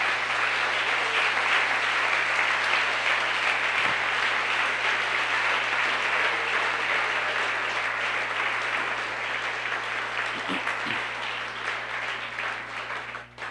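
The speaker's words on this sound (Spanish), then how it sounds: "¿Quiere aplaudir a Jesucristo en este momento?" A Sunday school congregation applauding Jesus Christ in sustained, even clapping from many people, with a low electrical hum beneath it and no talk over it.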